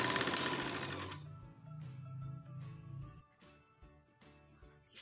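A sewing machine stitches a capri seam alongside the elastic. A brief burst of broad noise comes first, then the low, rapid chatter of the needle runs in short, uneven spurts.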